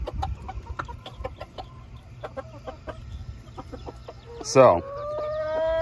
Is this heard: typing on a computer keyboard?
no